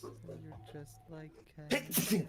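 One sharp sneeze bursts out at the end of a short stretch of talking, loud and close, during a casual hangout.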